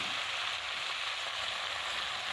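Malabar spinach greens frying in fish oil in a pan, a dense, loud, even hiss of sizzling that holds steady throughout with no talk.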